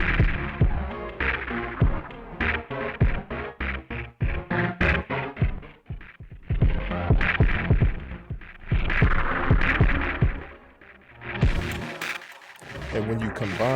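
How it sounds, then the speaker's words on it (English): A delay/echo effect is switched through different settings on a steady rhythmic pattern of loud, punchy hits, and the repeating tails and spacing of the echoes shift as the settings change. "as I hit these different settings, you'll see the echo or the type of delay that it's using starts to change"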